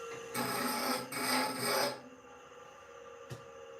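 A grinder flattens a workpiece in two rough, rasping passes over a steady motor whine. Contact then stops and the motor keeps running on its own at close range.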